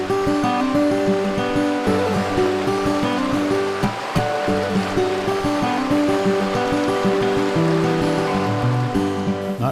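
Lost Creek in the Porcupine Mountains rushes along in a loud, continuous wash of flowing water that holds steady throughout with no voices.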